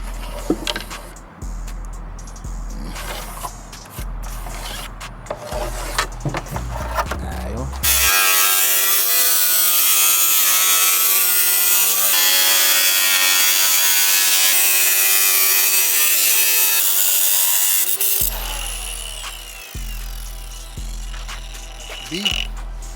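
A power tool cutting through the metal roof of a car to fit an Impala sunroof, a loud, harsh continuous grinding whine lasting about ten seconds, framed by rhythmic thumping background music and people talking.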